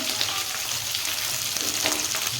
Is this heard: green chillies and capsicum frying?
yes